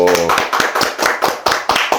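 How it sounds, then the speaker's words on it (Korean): A small group claps in a brisk, uneven burst at the start of an interview, the sharp hand strikes coming close and clear while a voice briefly sounds at the very beginning. "박수!"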